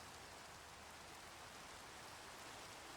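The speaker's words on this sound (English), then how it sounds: "It rains so much on this server, honestly." Steady, dense rain hisses without a break in the Minecraft modpack ATM10, a constant wash of falling drops with no voices over it.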